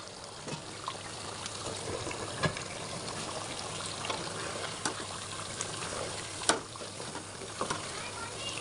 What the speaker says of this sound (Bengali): মাংস রান্না প্রায় হয়ে গেছে